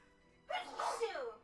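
A single sharp sneeze bursts out after a quiet moment, close and abrupt, with a short breathy tail.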